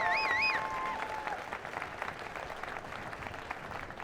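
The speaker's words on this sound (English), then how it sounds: "Can we get a huge round of applause for Dwayne McKeever and Connor Shannon?" Audience applause for two performers at a pro breakdance competition, a dense wash of clapping that is strongest at the start and holds steady for the rest, with a brief whistle-like tone at the opening.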